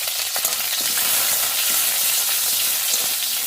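Loud, dense sizzling of food frying in hot oil in a wok, a crackly hiss with occasional stirring scrapes, close and continuous with no talk.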